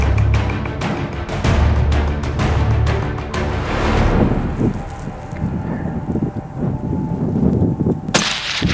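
Hunting rifle shot fired at a bull during a family hunting trip outdoors, a loud booming blast followed by a long rolling echo and wind noise, with no voices.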